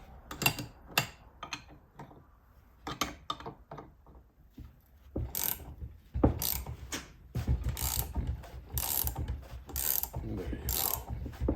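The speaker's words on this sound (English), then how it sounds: "So now by turning this nut, we're gonna extract the pump" Wrench ratcheting on a nut to extract the pump from an A-type overdrive, a series of close, sharp metallic clicks and ratchet bursts, sparse at first, then quicker and denser.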